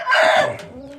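A rooster lets out a short, loud crow up close, followed by softer clucking from chickens nearby, some of them sitting outside in the sun.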